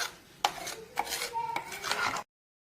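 A metal spoon scraping and clinking against a cooking pot as a coconut-paste curry is stirred, several sharp clanks over a soft wet swish, close and fairly quiet, ending abruptly.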